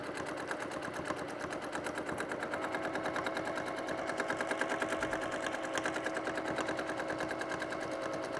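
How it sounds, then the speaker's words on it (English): A sewing machine stitching steadily while free-motion quilting a square, its needle a fast, continuous close whir that keeps going without a break throughout. "I'm just going to stitch onto it a couple of times like this"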